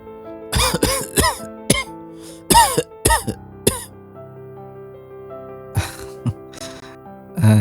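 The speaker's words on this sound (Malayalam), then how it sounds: "വല്ലാത്ത ചുമയാണല്ലോ" Repeated coughs from a man with a persistent illness, a run of sharp harsh bursts with throat clearing in between, near and alone with a steady background tone.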